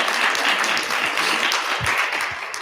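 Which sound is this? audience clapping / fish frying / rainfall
audience clapping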